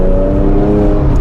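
A used Porsche 911's engine revs loud and close in a smooth, sustained tone, holding a steady pitch for a brief burst with no talking.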